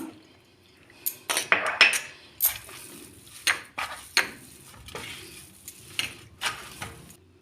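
Sesame (til) sweet mixture being scraped out of an iron kadai with a spatula, giving irregular metallic scrapes and clinks, some sharp and close, scattered over several seconds against a quiet background.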